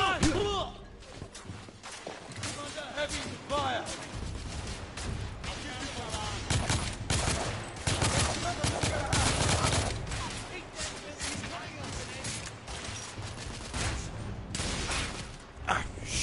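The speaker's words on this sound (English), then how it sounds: "Heavy fire!" Heavy gunfire in the video game The Order 1886 crackles in dense bursts and rapid volleys over a steady din, with voices shouting among the shots.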